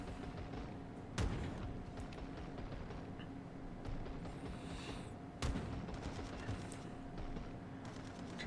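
Main guns of the Fuso battleship firing in World of Warships: a few deep, booming salvos spaced seconds apart break through a steady, fairly quiet background drone.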